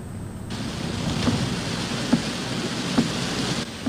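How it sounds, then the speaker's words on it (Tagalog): Heavy, unbroken rain pours down during a typhoon in Eastern Samar, a dense steady roar with a few sharper thumps and a faint distant rumble, heard close and alone with no voices. "Tila ayaw paawat ng ulan tuloy-tuloy ang pagbuhos."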